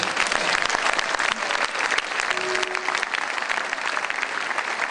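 A church congregation breaks into loud, sustained applause, a dense wash of clapping from a crowd filling the room with no one speaking over it.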